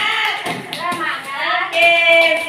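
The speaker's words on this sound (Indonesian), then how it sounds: "coba tepuk semangat" Group of teachers at a training session doing a rhythmic 'tepuk semangat' clap pattern, sharp hand claps in a set rhythm mixed with chanted voices.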